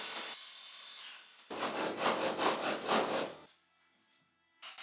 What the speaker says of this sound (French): Je fabrique ici le panneau avant en contreplaqué de 6 mm et découpe l'ouverture pour la trappe de service.